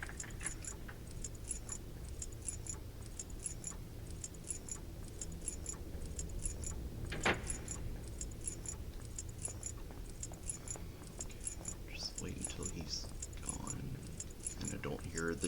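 Metal keys jingle in quick repeated bursts from an approaching enemy in the horror game White Day: A Labyrinth Named School, faint and steady beneath low ambient rumble and a person talking.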